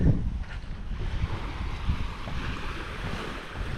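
Surf rolls in at Pantai Kundur beach in Kota Bharu, Kelantan, as a steady, close wash of breaking waves with rumbling wind buffeting the microphone. No one speaks.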